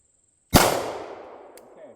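A single sharp pistol shot at a shooting range, a loud close crack with a ringing decay trailing off over a second, in otherwise quiet surroundings.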